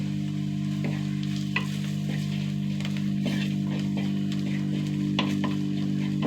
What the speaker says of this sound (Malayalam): പൊടികളൊക്കെ ഒന്ന് മൂത്ത് വരട്ടെ